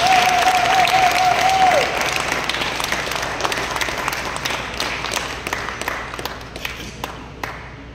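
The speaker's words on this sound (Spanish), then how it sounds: "Un fuerte aplauso, por favor." An audience at a ceremony in Mexico's Palacio Postal breaks into sustained applause, many hands clapping loudly and then gradually thinning out, with a brief tone ringing at the start.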